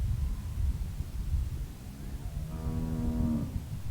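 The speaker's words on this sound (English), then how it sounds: "How do you like that cow, Clem?" In The Walking Dead video game, a cow lets out one long, drawn-out moo midway, clear and fairly close over a steady low rumble, with no speech.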